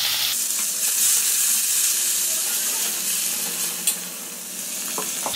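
Onions and tomato for a Tamil-style thakkaali kuzhambu sautéing in a pan, a loud steady hissing sizzle up close throughout, with a brief clink of a utensil near the end.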